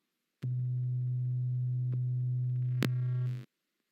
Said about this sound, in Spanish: Vamos a escuchar un sonido de 125 Hz, un sonido bajo.